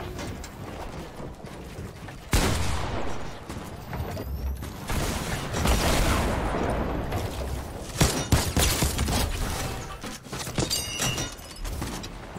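Infantry rifle fire in a video game arena mode, loud rapid bursts and cracks layered over a busy rumble of battle noise, with several sharp shots clustered late.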